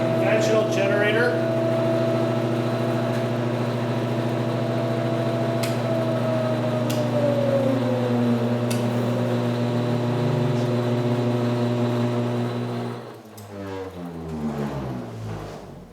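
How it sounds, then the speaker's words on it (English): A ReGen-X generator runs as a conventional generator, giving a steady loud mechanical hum with layered tonal drone and a few faint clicks, then the tone slides and sputters down near the end. "Operate the generator as a conventional generator."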